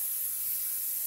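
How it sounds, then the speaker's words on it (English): Brief soft airbrush hiss as alcohol is sprayed through to clean it, a steady faint spray with no talking. "now my airbrush is full of alcohol."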